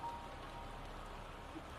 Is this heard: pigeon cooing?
no